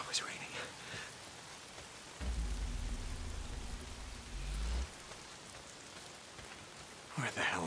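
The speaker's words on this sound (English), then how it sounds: "If it's not the freaks, it's the goddamn rain." Steady rain hisses down in the video game Days Gone, a soft constant patter with a deeper low rumble swelling in the middle, faint and unbroken throughout.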